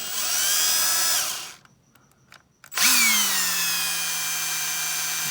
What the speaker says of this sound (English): And then I'm starting with a 1/16 drill bit.